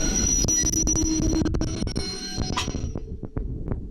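A cargo train crossing the Sahara slows to a stop, its deep rumble steady before giving way to a series of sharp, separate clanks and knocks as the wagons settle.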